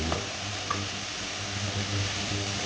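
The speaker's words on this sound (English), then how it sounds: "keep it stirring, you don't want to make it stick to the bottom of the pan" Vegetables for minestrone soup stirred in a pan, a steady close sizzle with a constant low hum underneath and a few faint scrapes against the bottom.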